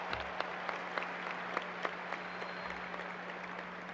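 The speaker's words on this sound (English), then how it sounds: "Let's give a round of applause." A graduation audience claps steadily and fairly faintly from a distance, with a thick, continuous patter and no voices over it.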